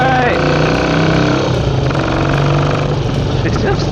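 A 1967 Triumph Mountain Cub motorcycle engine runs loud and steady while riding. The drone sits up close, and its pitch changes as the rider downshifts.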